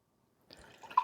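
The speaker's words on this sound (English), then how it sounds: "Let me try to pour the pool water in here one-handed." Hose water pours into a small test container, starting halfway through as a soft, close trickle and splash that builds louder toward the end, with no talk over it.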